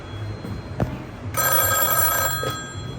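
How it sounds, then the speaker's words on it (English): A telephone bell rings through an old step-by-step switching exchange at a fairground demonstration. A single loud, steady ring lasts about a second amid quiet room noise, then stops abruptly. "And it's going to ring that phone right above there."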